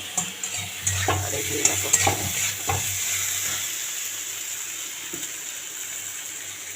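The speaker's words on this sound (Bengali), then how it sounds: "আর ওখানে মাছ ভেজে রেখে দিচ্ছি, দেখো।" Fish frying in a pan gives a steady hiss, with utensil clinks and scraping from stirring early on. A voice speaks briefly over it.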